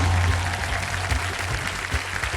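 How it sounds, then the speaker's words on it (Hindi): Studio audience on Kaun Banega Crorepati Season 17 applauding new contestants, a loud, sustained wash of clapping that fills the room without pause. "मैं चाहता हूँ कि जोरदार तालियों के साथ उनका अभिनंदन किया जाए।"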